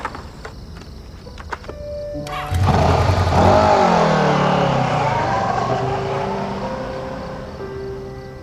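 A motorcycle engine cranks, catches and starts, then settles into a loud idle that slowly eases down. A few faint clicks and taps come before it starts.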